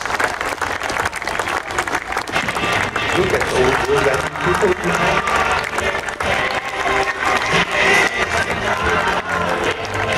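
Spectators at the Flying Legends air show at Duxford in 2013 applaud in a broad, sustained wash of clapping and crowd noise while a commentator talks over it.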